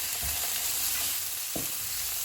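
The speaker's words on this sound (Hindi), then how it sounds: "इनको 1 मिनट तक भूनेंगे" Onions frying in a pan with garlic chili sauce, cumin powder, salt, red chili powder and crushed black pepper, producing a loud, dense, continuous sizzle with a couple of brief stirring scrapes.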